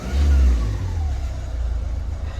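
A Renault Kangoo engine runs steadily at elevated idle of about 1100-1200 rpm, a low continuous hum with a brief surge at the start, close by and alone.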